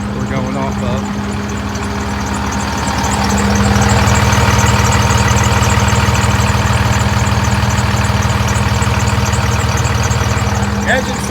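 A 2016 Peterbilt 337 diesel service truck engine idles steadily with a deep, knocking rumble that swells slightly louder partway through, with a voice speaking over it.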